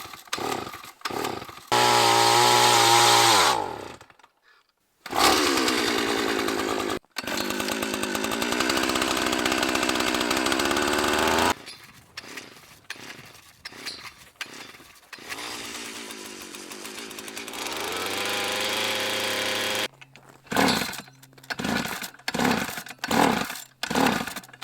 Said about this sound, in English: Instead, we got the Milwaukee cordless drill on it